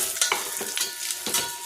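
Ground spice masala with red chilli powder frying in hot oil in a home tempering for a sheep curry, a steady close sizzle broken by several scraping stirs of a spoon, with no voices.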